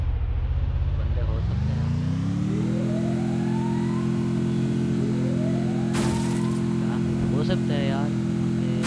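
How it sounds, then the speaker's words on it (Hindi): A car in a ranked video game match revs up and holds a steady engine drone, with a rising whine and a few brief clatters over the top, continuous and close. "चलो मैं गाड़ी लेके जा रहा हूँ"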